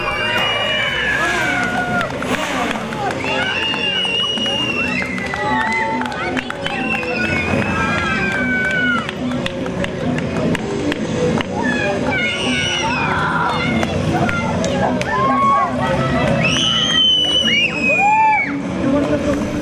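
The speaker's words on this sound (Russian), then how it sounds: "Это безумно горячие глаза, это громкие крики, крики восторга." A crowd of children at an outdoor event in Azov shouts and squeals with delight, high excited cries rising and falling over dense babble throughout, loud and close.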